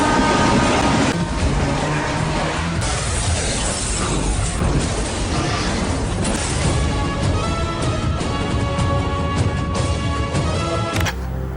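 A train in a movie scene rumbles and rattles loudly and without a break, with dense mechanical clatter and clanks throughout, then stops abruptly near the end.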